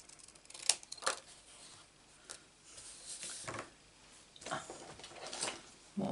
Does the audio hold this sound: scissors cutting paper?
yes